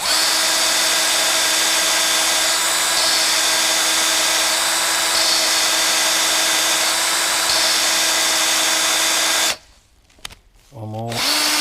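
A power drill runs continuously at low speed with a loud, steady whine for about nine seconds, drilling in reverse on a Ford Fairmont XC GXL, then stops abruptly. A voice speaks briefly near the end.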